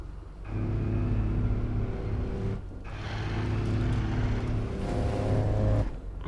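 Mako, the armored vehicle from Mass Effect, driving steadily with a constant deep engine rumble and low drone throughout, interrupted briefly by a couple of short gaps.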